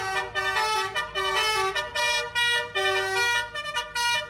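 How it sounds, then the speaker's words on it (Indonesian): A yellow bus plays a telolet horn while pulling out of a parking lot: a loud, bright melodic sequence of tuneful horn toots, broken into short notes and pauses over several seconds, with faint traffic noise underneath. "Klakson telolet yang dimainkan oleh sopir bus kuning ini tak hanya menghibur perekam video"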